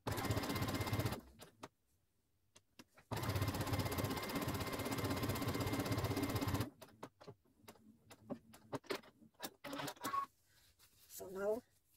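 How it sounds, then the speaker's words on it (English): A sewing machine stitches leopard print bag fabric in two long, loud, steady runs separated by a pause, followed by clicks and handling noises, with a voice speaking briefly near the end. "I'm going to sew all of it to the other side down."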